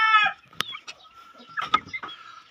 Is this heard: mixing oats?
no